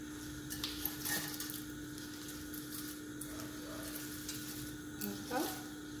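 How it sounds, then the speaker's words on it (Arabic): Shrimp shells frying in hot oil for a shrimp bisque give a faint, steady sizzle with a few light scrapes and stirs, fairly quiet and with no talking. "نبداو باش نقليو. شوفوا راني حطيت الزيت هاهو، نجيبو نحطو القشور تاعنا."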